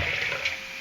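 Water is poured from a glass into a pot to cook kudumulu with semolina, a brief close, steady splashing gush.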